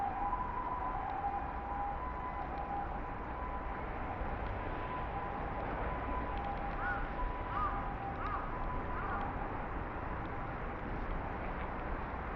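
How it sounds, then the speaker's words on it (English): An ambulance siren on a Tokyo street beside the Sumida River on a weekday morning, faint and distant as it wails through steady city traffic noise. "Yeah, it's an ambulance."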